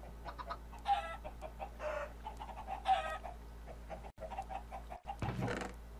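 Minecraft chickens cluck in short, repeated bursts, several birds calling back and forth at a moderate level over a low steady hum, with a couple of brief dropouts and no talk.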